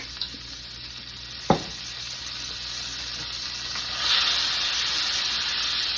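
A heaping teaspoon of garlic hits a hot frying pan, setting off a steady broadband sizzle with a sharp clink of a utensil early on and the hiss swelling slightly louder near the end, with no talking.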